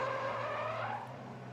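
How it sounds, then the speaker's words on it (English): Drift cars at a Formula Drift Top 16 battle, with a dense roar of engines and screeching tires in tandem, loud and continuous across the short span. "That was a really insane and aggressive initiation from Matt Field, and props to Castro for staying right up alongside of him"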